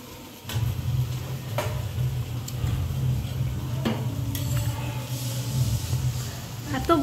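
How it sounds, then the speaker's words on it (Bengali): Fish frying in a pan for a fish curry, a steady low sizzle running throughout with a few sharp clinks and scrapes of utensils, while a voice talks over it. "দিদা এখন মাছ ভাজছে, মাছের ঝোল বানাচ্ছে।"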